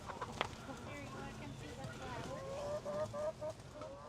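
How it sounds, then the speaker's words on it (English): Chickens cluck and stir inside a coop on a 1929-style farm at a museum village in Shawnee, Kansas, a steady busy clucking bed with a few brief higher calls, while a person talks over it. "So here's all the various chickens out here on the chicken farm."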